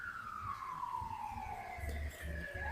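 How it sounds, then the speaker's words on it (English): A faint ambulance siren wails in the distance, its pitch sliding slowly downward as it passes, with low background rumble underneath. "I'm sorry if you can hear that ambulance in the background."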